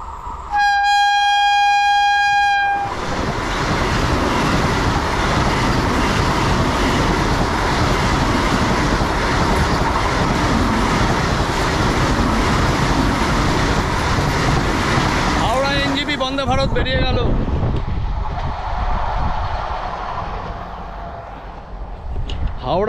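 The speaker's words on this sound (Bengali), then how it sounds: "হাওড়া এনজিপি বন্দে ভারত" Howrah–NJP Vande Bharat express train passing the wrecked site of a rail accident, a loud horn blast opening into a sustained close roar of rushing carriages and wheel clatter, squealing briefly near the end before fading.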